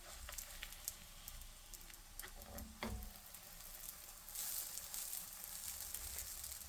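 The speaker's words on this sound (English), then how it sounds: "we're putting a few of them in the pan, and we're going to flip it on both sides until it cooks and becomes crispy" Curry-stuffed Ceylon parotta (curry roti) frying on low heat in a pan, a soft continuous sizzle with scattered crackles and a brief scraping stir, a louder hiss swelling near the end.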